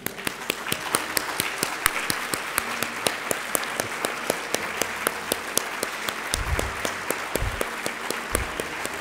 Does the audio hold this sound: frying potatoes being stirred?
no